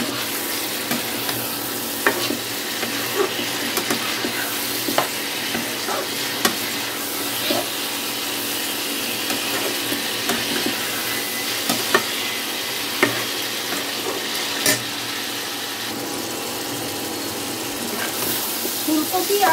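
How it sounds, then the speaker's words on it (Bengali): Cauliflower and potato are stir-fried with spices in a pan, giving a continuous loud sizzle with intermittent scraping of a spatula throughout. "এখন আমি এই ফুলকপি আর আলুটাকে খুব ভালো করে মশলার সাথে কষিয়ে নেব"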